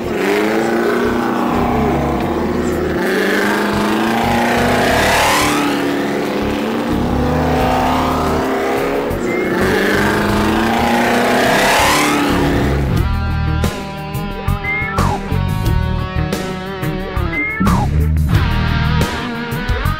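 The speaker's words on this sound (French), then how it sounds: "Faire tenir une Mercedes sur deux roues reste un exercice difficile et de très grande précision" Mercedes stunt cars balanced on two wheels roar and rev, engines swelling and fading as they pass close by, with loud continuous engine noise and sharp clattering bursts toward the end.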